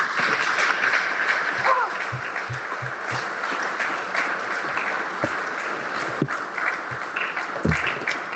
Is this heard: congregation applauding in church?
yes